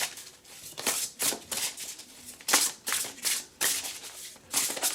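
Riffling and shuffling of a Priestess of Light oracle card deck, a series of crisp papery bursts in irregular rhythm, close and moderately loud with no voices.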